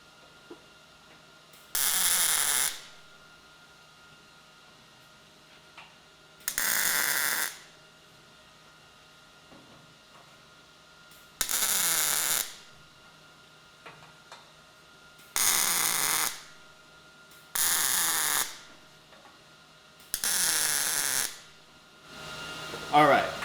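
Tack welding on a coffee table mounting bracket: six or seven separate bursts of harsh, crackling arc buzz, each about a second long, spaced evenly by quiet pauses with faint room noise between them.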